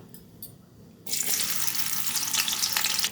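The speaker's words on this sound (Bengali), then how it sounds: "এবার আমি শুটকি মাছটা ভেজে নেব।" Dried fish dropped into hot oil in a wok on a gas stove breaks into a loud, steady sizzle after a second of near quiet, then hisses continuously and close by.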